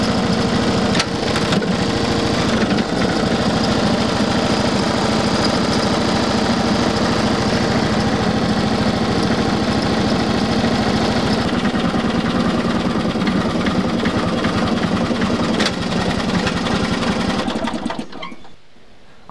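The engine of a 40-year-old British ride-on lawn mower runs loud and steady at close range for nearly twenty seconds, its tone shifting partway through before dying away at the end, with no voices.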